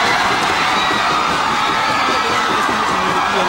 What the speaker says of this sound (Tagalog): Kasabay ng bawat tira ng Tamaraos ang hiyawan at palakpakan mula sa crowd.